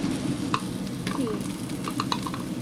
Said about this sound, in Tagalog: Saute lang sandali.